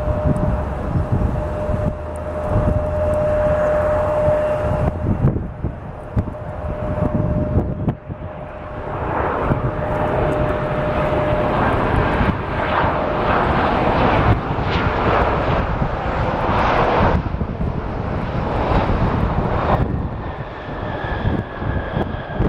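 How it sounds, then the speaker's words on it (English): A United Airlines Boeing 737-800 in Star Alliance livery arrives inbound from Chicago at Columbus, its engine roar steady and loud throughout, with a brief dip partway before swelling again. "It's the Star Alliance livery on this 737-800 inbound from Chicago."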